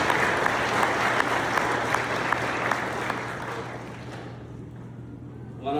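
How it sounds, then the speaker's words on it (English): A church congregation at St Hubert parish applauds the graduates, steady dense clapping from many hands that gradually thins and fades toward the end, heard in a reverberant hall. "shall we all give a big clap to the graduates,"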